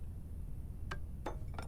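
A martini glass is picked up in Starfield, giving three light, bright glassy clinks spaced about a third of a second apart over a low steady background hum.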